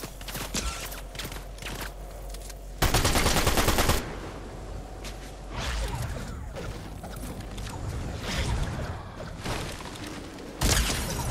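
Gunfire in the Fortnite video game: loud shots with a heavy blast near three seconds and another near the end, scattered cracks, and footsteps and game effects in between.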